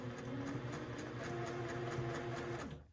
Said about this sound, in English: I want to make sure that I'm stitching as close as possible to the edge